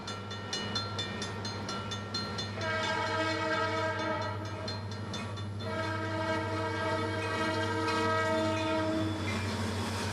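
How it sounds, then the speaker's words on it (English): A heavy BNSF double-stack freight train climbing the Stevens Pass grade rumbles steadily with a deep engine drone, its horn sounding long sustained blasts, loud and close, with no voices. "Even the most important double-stack priority trains crawl through this area."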